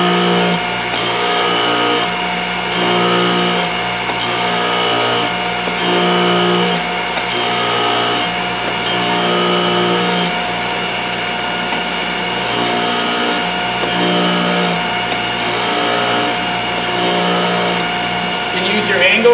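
A Thorvie AV-40 sharpening machine hones a router bit, its steady motor hum running throughout beneath loud rhythmic scraping strokes drawn back and forth in regular passes, close and continuous.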